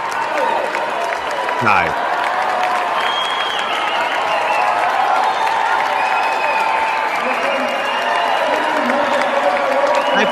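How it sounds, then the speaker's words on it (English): Studio audience applause, a broad steady wash of clapping and murmuring crowd filling the room at constant loudness throughout, with a brief spoken greeting over it. "That applause is condescending to me."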